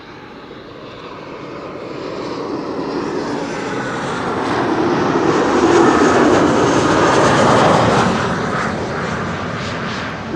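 A large airliner on approach to land at Schiphol, a steady broadband engine roar that swells louder toward the middle as it nears and passes, then eases slightly, with no voices over it.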